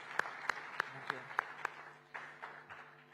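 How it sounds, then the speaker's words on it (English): A scattering of claps rings out for the Chief Minister at an Indo-American Chamber of Commerce convention in Mumbai, several sharp, evenly spaced hand claps fairly close but quiet, thinning out into a low murmur of room noise. "So give him a round of applause"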